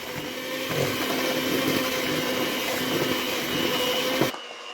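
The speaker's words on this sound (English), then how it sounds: "machine in here and I'm gonna whisk this together" Stand mixer whisking lemon sponge cake batter: a loud, steady motor whir with a constant hum, running evenly for about four seconds before cutting off abruptly.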